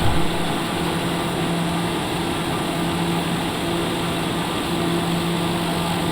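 Turboprop engine of a TBM 930 climbing out just after takeoff at night, a steady loud drone with constant tonal hum filling the cabin throughout, no talk.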